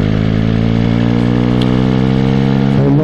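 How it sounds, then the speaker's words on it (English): A motorcycle engine drones steadily and loudly as the rider comes down through the gearbox, holding a continuous close, even tone with a slight shift in pitch near the end. "So I've just come down through the gearbox."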